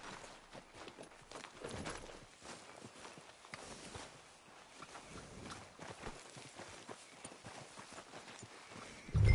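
Horse hooves clip-clop steadily at a walking pace in a PS4 video game, a continuous rhythmic clatter of footfalls running through the whole stretch with faint ambient noise behind.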